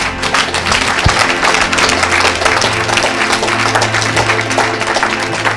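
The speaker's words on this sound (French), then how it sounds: "Acclame." A church congregation applauds in continuous, dense clapping, loud and close, holding steady throughout with a faint low hum beneath.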